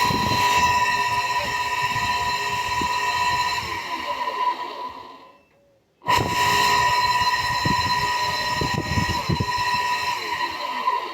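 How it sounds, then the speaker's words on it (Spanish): Worn bearings in a Truper 1/2 hp peripheral water pump motor give a loud, steady grinding whine with rattling overtones. It winds down to silence midway, then starts again abruptly at full strength. "Ese ruido que se escucha pues es de los valeros"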